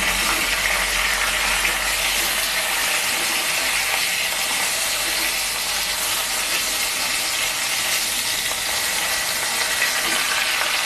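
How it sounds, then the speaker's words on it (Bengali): A hilsa fish head fries in a pan, giving a steady, loud, dense sizzle and hiss that runs unbroken from start to finish, with no voices over it. "সুন্দর করে ভেজে তুলে নেব।"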